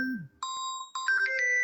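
A mobile phone rings with a bright electronic melody of sustained tones, close and clear, rising into a layered chime pattern after a short opening note.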